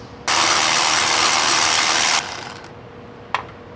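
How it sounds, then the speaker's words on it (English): A 15 mm deep socket spins off a fuel tank strap nut on a 1994-97 Ford OBS crew cab, a loud, continuous whirring burst of about two seconds that stops abruptly, followed by a single sharp knock. "Now with the 15 mil deep socket and a 13 mil on top, holding it to keep it from spinning, we're going to remove this nut"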